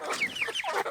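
A hen clucks in a brief, close burst of sharp, chattering calls, heard alone with no voices.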